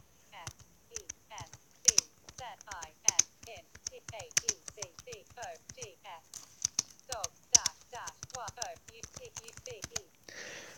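Typing on a computer keyboard while using a web browser: quick, irregular clicking keystrokes tap along steadily for about ten seconds at close range, with a low murmuring voice underneath.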